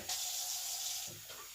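A small amount of water is poured into a blender, a brief airy hissing pour close by lasting about a second before tapering off.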